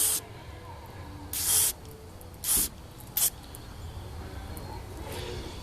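Three short bursts of aerosol cleaner hiss on a 2011 Mustang GT engine, one after another with pauses between, fairly close, over a quiet background hum.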